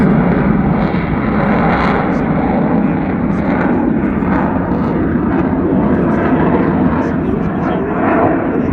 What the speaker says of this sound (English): Now here's something we've not seen from an F-15 display.